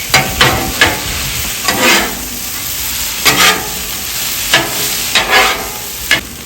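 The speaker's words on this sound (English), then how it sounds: "tots are starting to get good and cooked, we're going to add some Chili Cheese Fritos here." Tater tots and Chili Cheese Fritos cooking on a Blackstone griddle for a breakfast hash, a steady sizzle broken by repeated scraping and stirring strokes of a spatula on the flat-top, close and loud with no voices.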